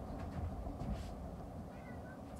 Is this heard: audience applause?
no